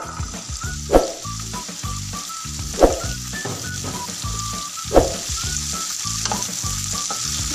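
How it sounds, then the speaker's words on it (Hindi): Asparagus fried in about two spoons of hot oil gives a steady close sizzle with a crackling hiss. A few louder bursts of stirring rise above it, and no one speaks. "ऑयल हमारा गर्म हो चुका है। इसमें हम एस्पैरागस डाल देते हैं।"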